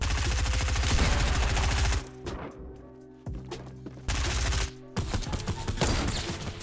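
Rapid video game gunfire rattles in a dense burst for two seconds, followed by a few scattered single shots and short volleys.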